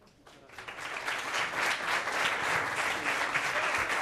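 Crowd applause at a papal meeting with young people of Scholas Occurrentes in Portugal, swelling from quiet to a sustained, dense clapping that holds steady for several seconds.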